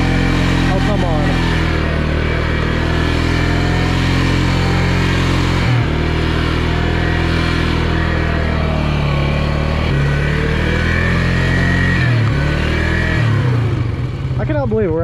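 Stock-tired Polaris UTV engine roaring loudly and continuously as it revs while stuck in mud, pitch rising and falling through repeated throttle bursts, with a voice speaking over it.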